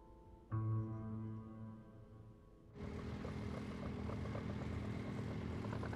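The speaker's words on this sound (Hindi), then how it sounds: "मिस टियान, देखा जाए तो ये ट्रैक्टर 30 किलोमीटर की स्पीड से चल रहा है" A tractor engine moving at about 30 km/h: a steady, tonal drone that swells at first, then opens into a louder, broader continuous roar that keeps going to the end.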